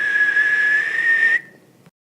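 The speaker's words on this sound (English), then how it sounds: "Link whistles for his loft wing" A single long, steady whistle is held at one high pitch for over a second, then drops away and fades, sounding fairly close and alone, a call meant to summon a large bird.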